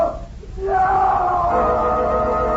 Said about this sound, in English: that scream sounded as if the promise has been fulfilled